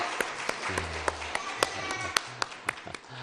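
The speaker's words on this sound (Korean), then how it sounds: "방에 박수 올려드립니다" A church congregation at a Sunday morning service breaks into scattered, uneven claps, with sharp individual hand strikes over a soft murmur and voices.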